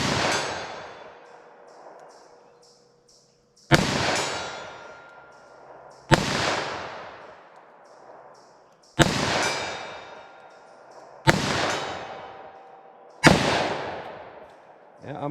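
Six sharp gunshots from a .327 Federal Magnum handload with 100-grain XTP bullets ring out at a few-second intervals on an outdoor range at 75 yards, each loud crack trailing off in a long echo.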